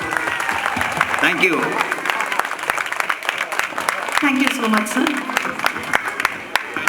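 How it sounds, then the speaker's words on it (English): Audience applause for a performer at a stage function, crisp scattered clapping throughout while someone speaks over it near the microphone. "Please, one more round of big applause."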